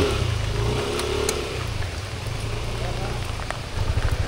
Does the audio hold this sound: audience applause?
no